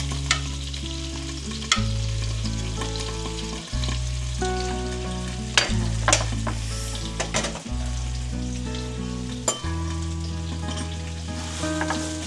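Abalone pan-fries in butter with a light, crackling sizzle and occasional sharp pops and utensil taps, set against a loud steady music bed with plodding low notes.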